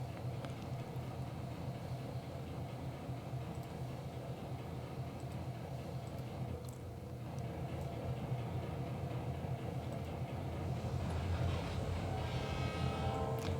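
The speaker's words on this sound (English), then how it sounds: "I really do like the horn on this particular locomotive." A model train locomotive sounds its horn near the end, a faint tonal blast over a steady running rumble that fills the whole stretch.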